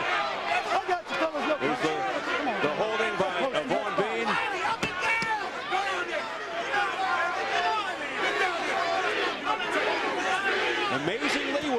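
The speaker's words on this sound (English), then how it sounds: "listen to this crowd turning. That's not Holyfield they're chanting, that's Bean." A boxing arena crowd at a 1998 WBA and IBF heavyweight title fight chants and roars continuously, a dense, loud mass of voices filling the whole stretch.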